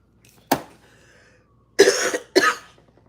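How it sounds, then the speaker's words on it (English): Three sharp coughs, one short one followed by two harsher bursts close together, near and loud with brief quiet between. "I'm still coughing up a lung"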